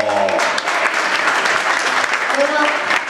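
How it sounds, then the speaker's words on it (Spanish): Concert audience applauding at a guitar academy show, a dense, sustained burst of clapping at close range, with a voice briefly audible beneath it. "Fuerte ese aplauso para Juan Bautista y Juan Cruz Calvo."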